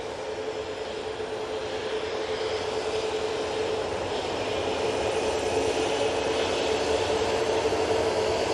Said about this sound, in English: That 737 MAX 8 is now spooling up.